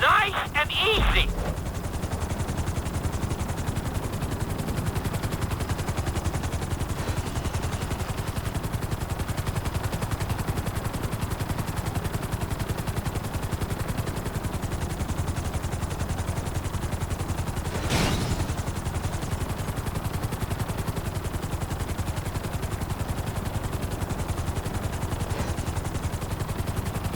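Helicopter in the game GTA V flying and setting down on a landing pad, a steady loud rotor drone throughout with a short sharp burst near the start and a brief crack later.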